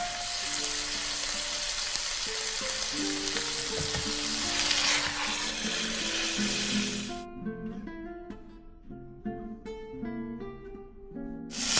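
A pork leg for Bavarian roast pork browns in a pot with loud, dense sizzling and spattering for about seven seconds, then the frying gives way to quieter tonal music.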